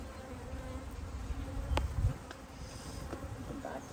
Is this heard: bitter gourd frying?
no